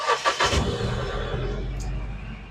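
A Mahindra Bolero Pickup BS6 diesel engine starts with a few quick cranking bursts, catches, and settles into a close, steady idle rumble.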